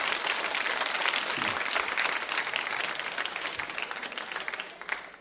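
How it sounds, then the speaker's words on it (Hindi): An audience applauds at a school quiz show: dense, loud, sustained clapping fills the space and tapers slightly toward the end, with no voices over it. "तालियां बजाइए इनके लिए आप।"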